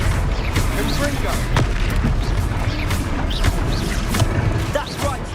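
Repeated fiery blasts from the Confringo explosion spell in the PS5 game Hogwarts Legacy, loud booming bursts over continuous battle din and music, with a character voice calling out between hits.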